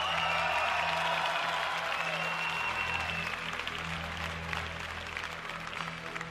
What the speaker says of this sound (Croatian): pa evo, mali aplauz